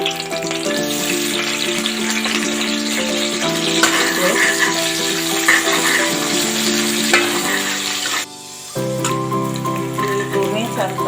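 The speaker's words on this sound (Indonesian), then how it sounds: "Ditumis sampai harum dan layu ya." Shallots sauté in hot oil for gulai ayam, a loud close crackling sizzle with stirring, briefly dipping before resuming, while a voice seems to talk faintly underneath.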